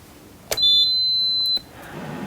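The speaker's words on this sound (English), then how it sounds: "Obviously the beep is the indicator that the machine is on" A single high-pitched electronic beep lasting about a second sounds as an EAGLE PLUS industrial steam vacuum cleaner is switched on at its main power switch, then quiet room hum follows.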